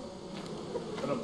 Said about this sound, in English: Bees are chasing after you.